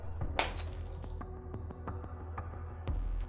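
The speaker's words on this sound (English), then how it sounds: "The glass shatters, letting out the E2 crystal." A glass vial shatters in Goddess of Victory: Nikke with a sharp, bright crash, then scattered tinkling fragments and a few smaller clinks. A low hum runs underneath and a final impact lands near the end.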